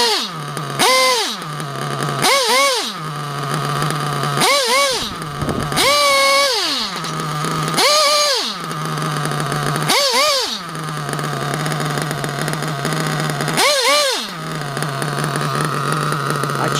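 A radio-controlled nitro truggy with a Nova 28.8 single-stage engine and a Losi fuel tank fitted with a Techno lid idles loudly nearby, broken by roughly eight sharp throttle blips that rise and fall in pitch.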